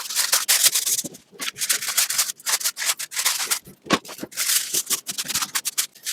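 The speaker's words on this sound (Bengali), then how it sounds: "এর উপরে আমি ফয়েল পেপার দিয়ে দিব।" Foil paper being spread and pressed over a tray of marinated chicken drumsticks, close crinkling and rubbing rustles in irregular bursts with brief pauses.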